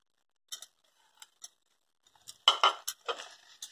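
A spoon clinks and scrapes against a pan while stirring papaya halwa with rose petals and pistachios, sparse light taps at first, then a few louder, closer scrapes, with no other sound.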